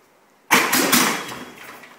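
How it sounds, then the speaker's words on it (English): A Volkswagen-engined trike fires up abruptly and runs on loud and close with a rough, fluttering roar that slowly settles; no talk over it. "Grandpa, start this motor?"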